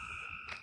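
Night frogs near a country store give a short, faint, steady trilling croak with a slight swell near the end.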